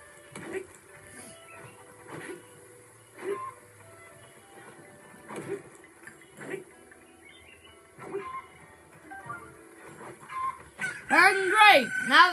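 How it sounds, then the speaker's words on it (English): Chicken in The Legend of Zelda: Breath of the Wild, soft sparse clucks spaced through quiet game ambience, then a louder burst of squawking clucks near the end. "Now the chicken awakes."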